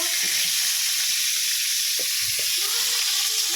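Potatoes sizzle steadily in hot oil in a home kitchen pan for a few seconds, with a couple of soft utensil knocks and stirring sounds over the continuous frying hiss.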